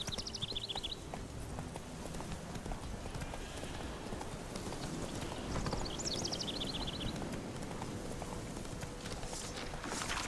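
Horse hooves clip-clop steadily through a busy game soundscape in The Witcher 3: Wild Hunt, a continuous trotting rhythm with a short whinny near the start and another around the middle, with faint voices underneath.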